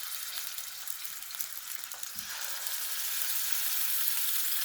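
Chicken drumsticks set into a hot frying pan sizzle and crackle in a bright, steady hiss that swells louder after a soft clatter of placement, close and alone.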